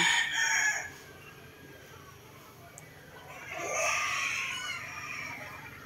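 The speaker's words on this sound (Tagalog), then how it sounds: "Pakita ko sa inyo yung mga pinapalaki niyang mga manok." A rooster crows loudly at the start, then another long crow rises a few seconds later, with faint background noise between.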